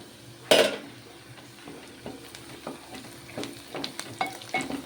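Curry leaves and onions fry in a pan for a prawn curry while a spoon stirs them. A steady close sizzle runs throughout, with scraping and clinks of the utensil against the pan and one louder knock near the start.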